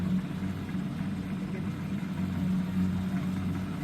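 A farm machine engine runs steadily in a rain-soaked field, a continuous low droning hum with a slightly rough, labouring quality, fairly close and unbroken throughout.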